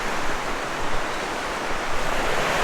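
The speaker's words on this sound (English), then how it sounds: "this over here is the River Tavy" The River Tavy flows in a wooded Dartmoor valley, a steady broadband rush of moving water with no break, close and fairly loud, with no voices over it.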